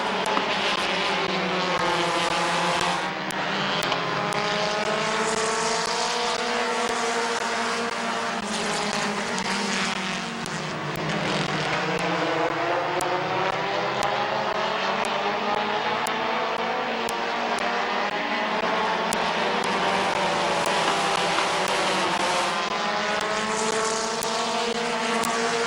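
Race cars roar around the oval at Midvale Speedway after the green flag, a dense, continuous engine drone with rising and falling pitch as the pack passes, loud and sustained throughout.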